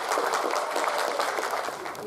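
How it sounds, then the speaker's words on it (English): Lecture audience applauding as a speaker is introduced, a brief continuous patter of clapping from a moderately sized crowd. "Let's give a round of applause to Mark Julian"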